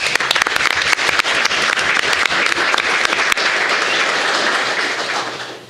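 Applause at a county Board of Education meeting: a roomful of people clapping loudly and continuously, the dense patter holding steady before easing off at the close.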